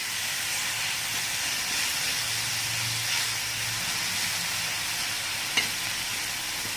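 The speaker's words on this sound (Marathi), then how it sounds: "थोडीशी तेल टाकू आणि कांद्यामध्ये थोडीशी आपल्याला फ्राय करून घ्यायची" Onion frying in a little oil for a rustic mung bean chutney, a steady close hiss and sizzle with faint stirring and one small clink near the end.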